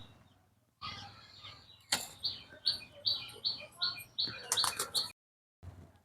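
Pigeons on a farm field with crop stubble, heard as a rhythmic series of short, bright chirping bursts close by, pausing briefly between runs.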